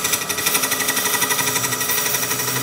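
A turning tool is pushed hard into a resin blank on a lathe, giving a loud, rapid, rhythmic chattering scrape that pulses steadily and close throughout, with no talking.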